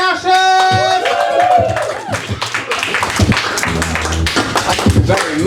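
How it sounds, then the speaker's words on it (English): A comedy club crowd in London applauds comedian Ben Ashurst, loud close clapping and cheering that starts beneath a voice and other sounds, then rises into a sustained wash. "Let's build that applause up again."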